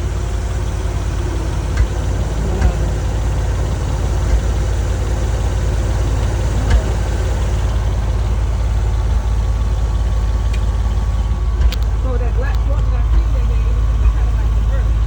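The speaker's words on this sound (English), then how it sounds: "Now the exhaust is coming straight to the ground. It's got so much pressure, back pressure in it." A used car engine idles close by with a clogged, busted exhaust and muffler, giving a steady low rumble and drone that runs throughout, with faint background sounds over it.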